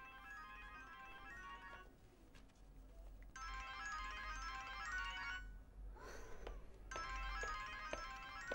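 A phone ringtone plays as a melodic electronic tune in repeated bursts with short pauses between them, moderately loud over a low background hum.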